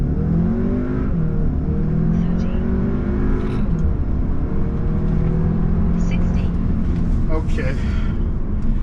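A 2020 Audi A3 45 quattro in dynamic mode launches hard from a standstill, its engine climbing through rising, sweeping revs with gear changes. It stays loud and steady throughout, with road and wind noise building underneath.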